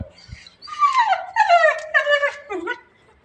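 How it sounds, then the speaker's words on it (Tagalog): A dog whimpers and whines in a few drawn-out, wavering cries, close and fairly loud against a quiet background. "Ang mabait yung aso na yan"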